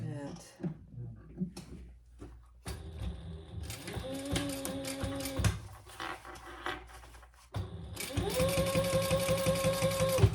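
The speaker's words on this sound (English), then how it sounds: "And I'm top stitching on the outside." A sewing machine top stitches a waist pack in two bursts, a short run and then a longer, faster one, its rapid mechanical chatter close and clear between quieter pauses.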